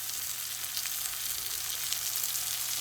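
Curry leaves and coriander leaves sizzle in hot oil for an onion curry, a steady close hiss of frying with no voices and no breaks.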